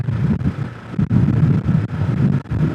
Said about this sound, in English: Oh yeah, that's 25 mile an hour wind right there.